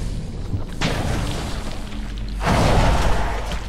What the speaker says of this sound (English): Or maybe that was the projectile vomit